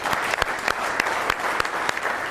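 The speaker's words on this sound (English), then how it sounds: "Give him a big round of applause" An audience claps for a man in the crowd at a stock market seminar: steady, fairly close applause with sharper individual claps standing out, continuing evenly throughout.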